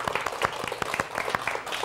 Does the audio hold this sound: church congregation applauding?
yes